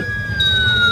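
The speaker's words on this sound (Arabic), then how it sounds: "الاسعاف خلطت على جناح السرعه وهزوها للاستعجالي" An ambulance siren wails loudly and close, its high tone gliding slowly downward in a single continuous sweep, with no talking.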